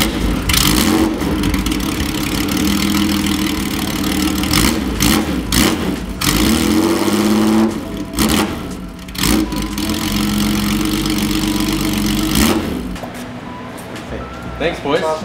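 A car engine is started and revved several times in a performance shop, loud and close, with the rise and fall of the revs and voices talking over it.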